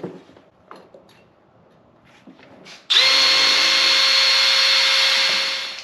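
A power drill bores into a thick steel side-step bracket on a Jeep Wrangler JL, sounding as a sudden loud, sustained whine that runs steadily for about three seconds after a few light handling knocks.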